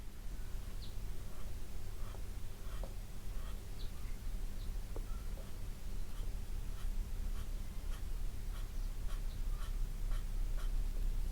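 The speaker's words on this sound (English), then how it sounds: "Now this eraser is perfect for areas that you want a little bit lighter rather than removing graphite" Kneaded eraser dabbing and lifting graphite from drawing paper, a soft, quiet scratchy rubbing with small irregular ticks, steady and close, no voices.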